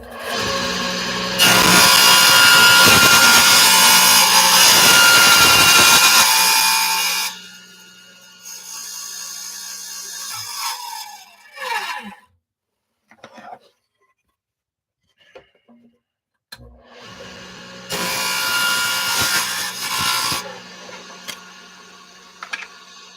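A power saw rough-cuts a sheet of plywood in two loud whining bursts, the first about six seconds long and the second shorter, with quiet handling noises and pauses between them.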